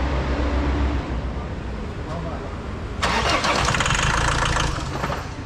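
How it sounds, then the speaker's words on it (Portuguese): An Iveco truck engine cranking on its first start after a battery replacement, a steady low rumble that bursts into a louder, broader roar partway through, sounding rough and uneven up close. "tá meio estranha essa partida"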